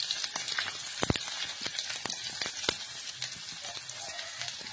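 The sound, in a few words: finely chopped onions frying in hot oil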